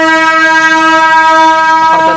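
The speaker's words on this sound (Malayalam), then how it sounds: "അപ്പുറത്തൊരു സാധനം പോകുന്നത്, അതാണ് ഈ ഹോൺ വെച്ച് പോകുന്നത്" A goods train hauled by a G12 locomotive sounds its horn while passing nearby in Andhra Pradesh, a loud, sustained harmonic blast held steady throughout with a brief extra rise of noise near the end.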